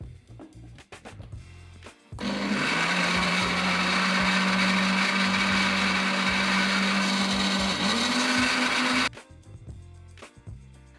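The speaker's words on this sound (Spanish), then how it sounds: "Y vamos a licuar." A blender whirs a dulce de leche ice cream mixture for about seven seconds, a loud steady motor drone starting and stopping abruptly, framed by clunks of handling the jar before and after.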